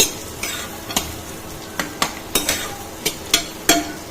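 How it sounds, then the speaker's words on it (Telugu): Crushed garlic frying in oil with onion, mustard seeds and cumin in a pan, a continuous near sizzle with a quick series of about ten sharp spatula taps and scrapes. "ఇప్పుడు కొంచెం దంచిన గార్లిక్ కూడా యాడ్ చేసుకోవాలి."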